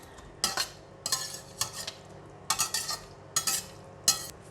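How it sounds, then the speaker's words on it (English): A luffa and tofu stir-fry is tossed in a pan off the heat, bringing several short scraping clatters of a utensil against metal in uneven bursts over a faint background sizzle. "Give it a mix."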